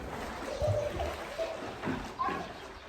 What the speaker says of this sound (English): So a bunch of little kids here hopping into the pool.